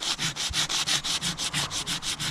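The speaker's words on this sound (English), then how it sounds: "I just sand it down so that it's plain." Sandpaper rubbing over a teak wood plug on a boat, a quick regular back-and-forth scratching rhythm of about a dozen strokes, close and alone.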